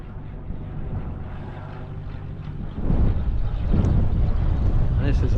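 Light aircraft engine drone heard outdoors on the North Dorset ridge near an airfield, a steady broadband hum that swells louder partway through as the plane comes in, with wind noise on the microphone.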